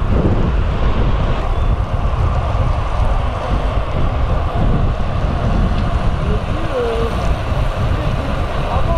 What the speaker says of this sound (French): J'ai l'impression d'être Leonardo DiCaprio à la pointe du bateau, avec ce vent et ses embruns.